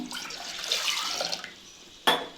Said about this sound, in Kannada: ಒಂದು ಪಾತ್ರೆ ಇಟ್ಟಿದ್ದೀನಿ ಇವಾಗ ಸ್ವಲ್ಪ ನೀರು ಹಾಕ್ತಾಯಿದ್ದೀನಿ